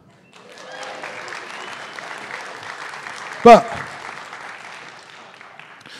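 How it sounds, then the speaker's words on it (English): Steady applause from a crowd, sustained clapping with one loud voice breaking through briefly in the middle. "I think that's a round of applause"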